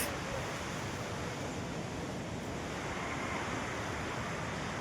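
Rushing water at Chelimichenu waterfall, a broad continuous roar of falling water, steady and loud without gaps, heard alone with no speech.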